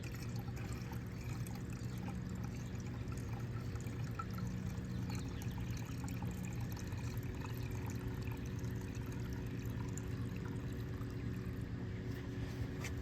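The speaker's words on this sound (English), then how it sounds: "pour your fuel into it without anything" Fuel poured into a lawnmower's tank makes a steady, soft liquid trickle that runs unbroken and fairly quiet throughout, with no talking.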